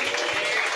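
A church congregation at a Sunday worship service claps in praise, a dense, steady wash of many hands close by, with no pauses across the short burst.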